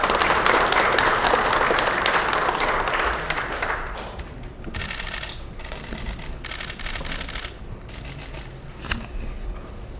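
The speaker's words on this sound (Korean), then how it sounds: "힘찬 박수로 맞이해 주십시오" A room of Democratic Party lawmakers at a party caucus meeting greets party leader Song Young-gil with loud, full applause that thins out after about four seconds into scattered claps and camera clicks.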